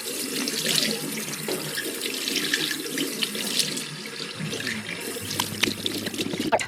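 Water runs steadily from a sink tap, splashing and trickling at close range while someone rinses their face over the basin, with no speech.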